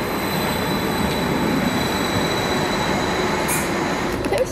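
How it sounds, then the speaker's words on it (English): A Transport for Wales train pulls into a station near Penarth, South Wales. Its loud, steady rumble of wheels and rail noise fills the whole stretch, with a brief high squeal near the end. "Here it comes. Here we are. Yay. Transport for Wales."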